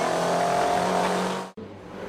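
A Mini Cooper S race car engine revs hard and loud at full throttle, a sustained roar that cuts off abruptly near the end before a lower engine note resumes.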